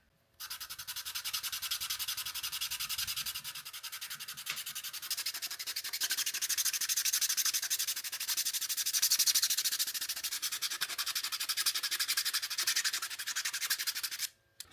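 Filler on a 1/24 scale Blade Runner Metrokab model car is sanded by hand in a steady, close, continuous rasping scrub that lasts about fourteen seconds with no talk.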